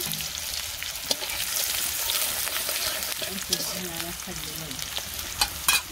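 Black gram lentils (mashkalai dal) sizzle steadily in a hot pan while vegetarian village food is cooked, with light stirring scrapes and a few sharp clinks near the end.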